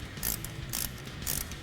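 A ratchet wrench tightens the brake line bracket hardware on a Jeep Wrangler JK, three quick bursts of close, crisp clicking in an even rhythm.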